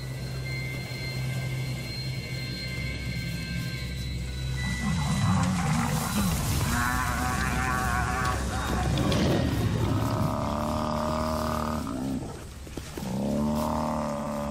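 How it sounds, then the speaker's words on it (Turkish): Lionesses and their cubs attacking as one group, with loud, continuous roaring and snarling growls layered over a steady low rumble, rising into harsh bursts in the second half. "Dişi aslanlar ve yavruları artık tek bir birim halinde."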